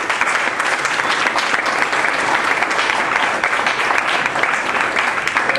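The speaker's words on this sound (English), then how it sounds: "Let's give Marisa a big round of applause" An audience at an LA2M nonprofit talk-series event applauds a speaker after her talk. The clapping is dense, loud and sustained, holding at an even level for the whole stretch.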